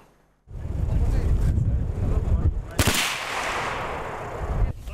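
A sharp shotgun shot cracks outdoors at a hunters' shooting competition amid wind and background noise, followed by a long fading echo.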